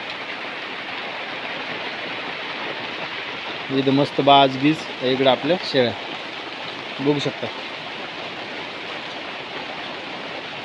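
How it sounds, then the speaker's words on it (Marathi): Continuous rain pours with a steady broadband hiss while someone speaks briefly partway through. "पाऊस आता चालू झालेला आहे हे बघा इकडे"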